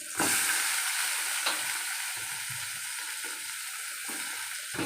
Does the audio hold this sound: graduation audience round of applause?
no